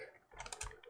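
A quick, close burst of computer keyboard typing as an address is entered in a web browser, soft and alone.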